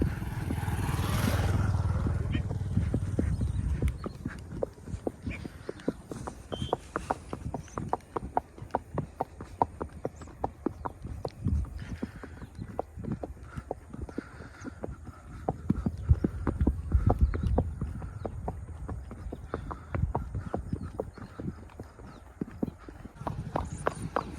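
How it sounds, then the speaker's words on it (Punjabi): Hooves clip-clop in a steady, quick rhythm as a mare is ridden, with faint voices now and then in the background. "ਜਿਹੜੀ ਘੋੜੀ ਤੇ ਆਪਾਂ ਰਾਈਡ ਕਰ ਰਹੇ ਆ"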